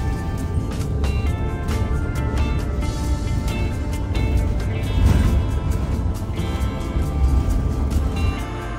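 The interior of a city bus in Stuttgart rumbles with a steady low engine drone and road noise, swelling slightly as it accelerates, with faint rattles and no talk.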